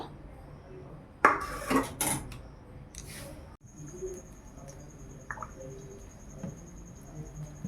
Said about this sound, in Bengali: এইবারে গ্যাসে কড়াইটা বসাবো